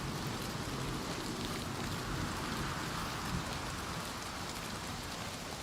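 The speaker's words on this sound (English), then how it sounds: "But the ambient sound is very good actually of the rain." Soft, constant rain patter in the video game The Elder Scrolls IV: Oblivion Remastered, with a broad even hiss, steady throughout and fairly quiet, with no voices or other distinct events.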